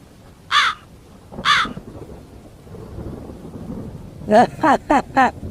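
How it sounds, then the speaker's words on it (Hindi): A crow caws twice, spaced apart, then lets out a quick run of four harsh caws, over a low rumbling background of wind or rain. "तभी काले पंखों वाला एक कौवा कालू मामा वहाँ आता है।"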